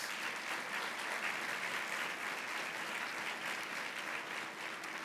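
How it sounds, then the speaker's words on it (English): Sustained applause from the crowd at an annual community breakfast, a steady dense wash of clapping that holds evenly for the full length, with no talking over it. "Let's give them a round of applause."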